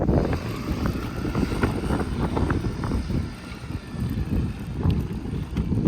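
Small dinghy carrying a folding Brompton bicycle rowed a short distance to shore near Kos, with rough water sloshing and wind buffeting the microphone throughout, and faint rhythmic splashes under the noise.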